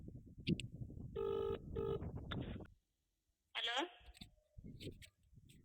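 A telephone rings through an ongoing call as a ringback tone: two short electronic tone bursts close together, with people talking before and after the rings.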